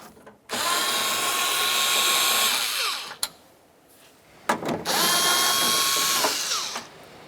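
A power tool on a Toyota RAV4 door spins out a pair of 10mm bolts, two loud whirring bursts of about three and two seconds separated by a quiet pause with a sharp click.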